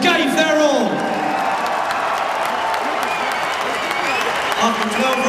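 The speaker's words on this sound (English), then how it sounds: "A round of applause for 2 boxers who gave their all." Crowd applause with scattered cheers fills the arena after a twelve-round professional boxing fight, a steady, dense roar under a ringside announcer's voice throughout.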